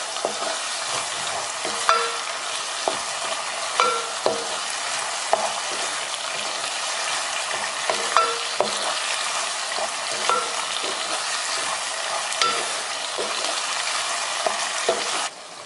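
A coconut rice mixture is stirred in a pan over a high flame, with a constant frying hiss and regular, close spatula clacks against the pan.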